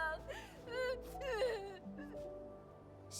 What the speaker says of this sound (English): I think I hear a child crying